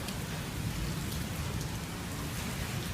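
Heavy rain pours continuously, a dense, even hiss of drops drumming on surfaces with no voices.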